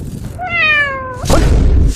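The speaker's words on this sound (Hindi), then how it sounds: "अरे साला बिल्ली का क्यों बजा रहा है?" A cat meows once as a played sound effect in a comedy sketch, a clear drawn-out rising and falling meow, followed by a burst of rushing noise.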